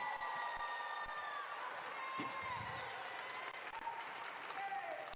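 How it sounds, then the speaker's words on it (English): Graduating high school class receiving applause from a crowd at a commencement ceremony, steady dense clapping throughout with faint voices mixed in. "Let's give them a round of applause."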